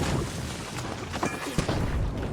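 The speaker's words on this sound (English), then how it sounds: "Any other side, the red barrel will just explode." A red barrel explodes in a video game, a dense burst of booms and crackling blasts packed closely together at steady loudness, with no talk.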